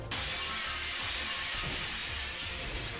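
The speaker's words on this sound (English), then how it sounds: "that glass shatter sound effect, oh my god, my ears." Glass shatters in the video game Shadow Generations: a loud, sudden crash that bursts in at once and stays as a dense, bright, sustained smash of breaking glass throughout.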